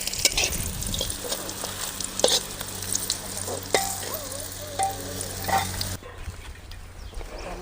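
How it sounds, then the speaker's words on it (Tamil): Something frying and roasting in a pan while being stirred, with crackling sizzle, scraping strokes and a few clinks, which cut off abruptly near the end into a quieter background. "பாரு இப்படி கொஞ்சம் நேரமாக வறுத்துக்கணும்."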